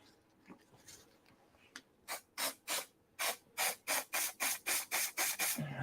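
A can of matte spray hisses in a run of about a dozen short, even bursts, close and crisp, after a few quiet scuffs and handling noises.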